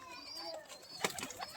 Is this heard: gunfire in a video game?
no